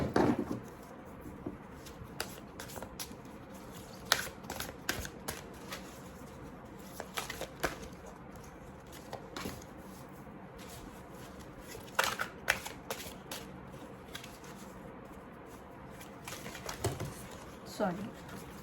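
A tarot deck is shuffled and cards are drawn, making soft riffling flutters and crisp snaps scattered through the passage, close but quiet, while a person talks.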